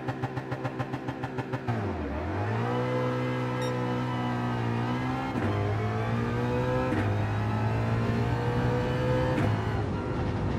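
A GR3 Ford Mustang race car in Gran Turismo 7 launches hard in first gear, the engine bursting from a rough idle into a loud rising roar that climbs steadily with brief shift dips.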